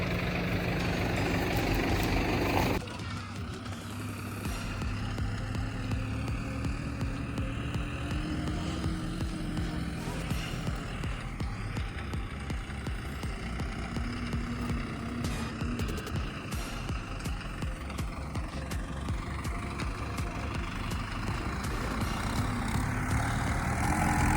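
A tractor drives over a farm field pulling a disc harrow in working position, a steady droning engine hum with shifting pitch that drops in level after a few seconds and then continues evenly.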